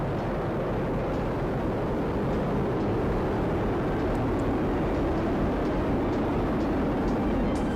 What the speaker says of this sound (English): All 27 Merlin engines look great.